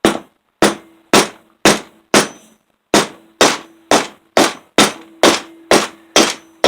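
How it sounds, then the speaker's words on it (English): An oversized hammer taps a piston into a homemade ring compressor of two hose clamps during a 5hp Briggs and Stratton engine rebuild: about a dozen sharp metallic knocks, evenly spaced, each ringing briefly. "way too big a hammer."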